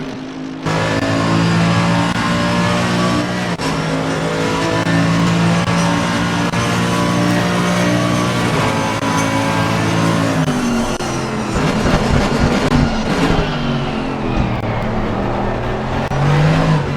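Mustang GT3 race cars roar down a straight in a racing video game, loud sustained engine drone with rising revs and a whirring pass, no talk over it.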